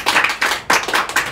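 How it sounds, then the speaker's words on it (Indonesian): Hands clap at a wedding in a few quick bursts of sharp, close smacks, with a brief pause between groups. "Kita tepuk tangan."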